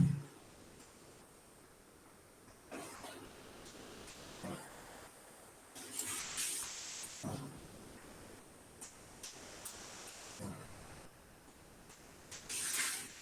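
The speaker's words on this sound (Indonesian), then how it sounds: "Kalau ada ribut tambahan itu suara air dari kamar mandi." Steady wash of running water, hissing broadband noise with a few louder splashing surges, faint and continuous throughout with no voices.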